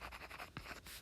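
Marker or chalk writing on a board during a calculus lesson, a steady run of short scratchy strokes with a brief tap near the middle, close and fairly quiet.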